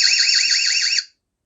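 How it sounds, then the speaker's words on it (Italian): An EZVIZ wifi security camera sounds its alarm siren in darkness: a loud, rapidly warbling electronic wail that runs steadily for about a second and then cuts off into silence. "E allora attiviamo l'allarme."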